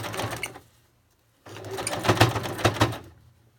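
A sewing machine stitches through a thick layer of fabric scraps for a ruffle trim roll, a short burst of stitching, then a pause and a longer, louder run that labours unevenly.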